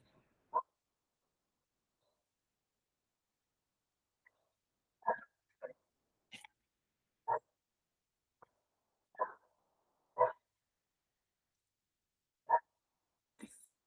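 A dog barks in scattered single yips and short pairs during an online class, faint and distant, with long silent stretches between the barks as it is being tied up.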